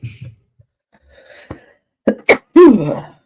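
A single sharp sneeze bursts out after a quiet breath and short intake sounds, close and fairly loud.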